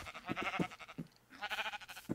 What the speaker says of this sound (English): What a derpy sheep.